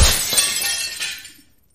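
Glass shatters in a bright, crashing burst, a game-engine effect, with shards tinkling and fading over about a second and a half.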